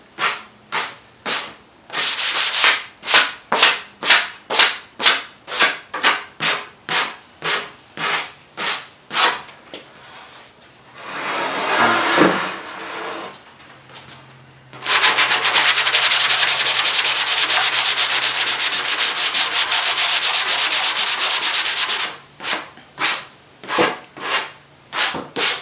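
Rhythmic back-and-forth sanding strokes on a wooden frame, a steady series of rasping pulses, then a longer continuous stretch of rubbing before the short strokes resume.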